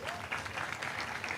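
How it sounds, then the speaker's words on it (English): An audience at an International Women's Day event applauds the MC in a brief burst of clapping from a crowd, fairly dense and moderately distant, with no voices over it. "A round of applause for our MC."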